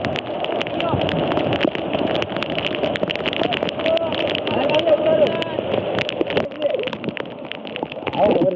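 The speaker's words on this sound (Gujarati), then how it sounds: "એટલા વરસાદમાં અમે ડુંગરા ઉપર પહોંચી ગયા છીએ." Heavy rain pours steadily in a hilly village, a dense continuous rush with scattered sharper drips and splashes, while people talk over it throughout.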